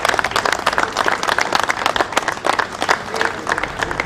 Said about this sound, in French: on peut l'applaudir M. Trintignac